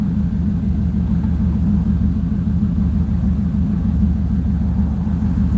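An LS V8 car engine fitted with headers, a Holley Terminator kit and Flowmaster Super 44 exhaust rumbles at a steady, deep idle close by, loud and unbroken with no voices.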